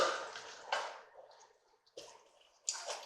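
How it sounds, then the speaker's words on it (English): Wet, squelchy stirring of baked penne sauce seasoned with oregano, thyme, pepper and red pepper flakes, a few close sloppy swishes and splats with brief gaps. "So now we're going to give this a good stir."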